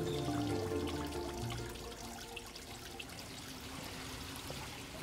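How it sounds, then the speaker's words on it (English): Trickling water of an indoor fountain in a museum's Astor Court, a Chinese-style garden courtyard built in the early 1980s, flowing steadily and softly with faint low hum and tones fading in the first seconds. "When you sit in there, you know, you hear the water"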